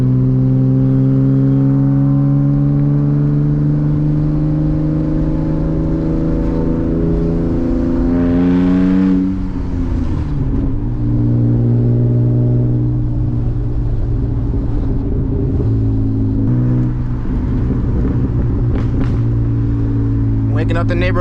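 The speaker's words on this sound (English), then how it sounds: "Waking up the neighborhoods with the crackles." A BMW E36 328i with a manual gearbox and loud exhaust drives at night, its engine drone rising and falling through gear changes, with crackles and pops on the overrun, close and steady throughout.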